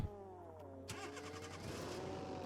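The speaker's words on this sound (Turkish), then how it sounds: "Çalıştır bakayım şöyle." A BMW in BeamNG.drive cranks over and fires up, the starter whirring briefly before the engine catches at about one second and settles into a steady idle, close and fairly quiet.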